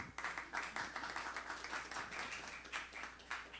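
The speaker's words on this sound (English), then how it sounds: "Please clap again for Alan Chase." An audience applauding at an academic presentation on performance therapy: a dense, steady patter of many hands clapping together, fairly faint and distant, continuing with small surges throughout.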